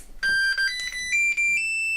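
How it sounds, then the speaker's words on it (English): A GMade GS02F BOM RC crawler's electronics emit a series of bright electronic beeps as the receiver connects, clear and close, stepping up in pitch with short gaps between tones. "It should beep, beep, beep this time."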